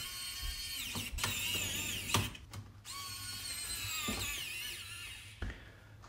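Small screws being driven in to secure a hard drive inside an Acer Aspire 5 laptop, heard as close, repeated ratcheting and whirring tool bursts with sharp clicks and brief pauses between.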